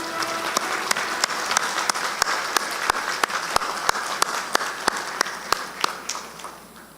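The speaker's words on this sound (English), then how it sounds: "round of applause" Warm applause for law school graduates at a university commencement ceremony, steady clapping from a crowd with sharp, evenly spaced louder claps standing out, fading toward the end.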